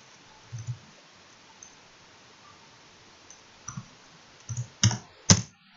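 Computer keyboard keys pressed to enter a tax ID number: a few sparse, faint clicks in near silence, then a quick cluster of sharper, louder keystrokes toward the end.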